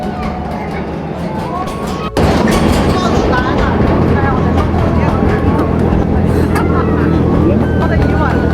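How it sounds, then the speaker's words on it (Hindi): A slow farmyard ride train at a Calgary farm rolling out of a container-built tunnel past corn fields, a loud steady rumble and wind wash that opens up abruptly as it leaves the tunnel. "टनल से निकलने के बाद ट्रेन स्लोली बढ़ रही थी"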